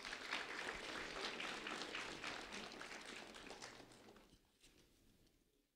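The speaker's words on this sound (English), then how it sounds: "A round of applause for Ronald and for Jason" An audience claps for two first-grade students being honored at a ceremony, a quiet, distant patter of many hands that thins and fades out over the last seconds.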